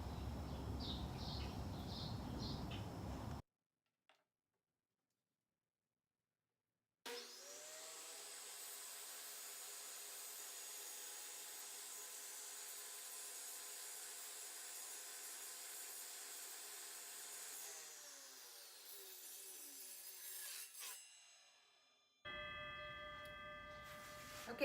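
A power saw cuts wood pieces off a dresser being repurposed, a long steady whining drone that holds for about fifteen seconds, preceded and followed by other workshop noise and a brief silence.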